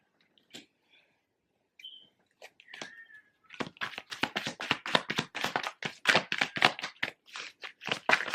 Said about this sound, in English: Sorry if you guys can hear my cat.